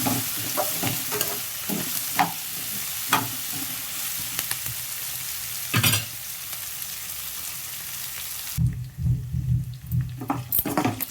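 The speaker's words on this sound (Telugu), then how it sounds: "ఇది కూడా కొంచెం ఇట్లా నూనెలో ఫ్రై చేసుకుంటే బాగుంటుంది అన్నమాట" Drumstick pieces fry in oil while being stirred, a close, bright sizzle broken by repeated scraping strokes of a spoon, with a quieter pause near the end before stirring resumes.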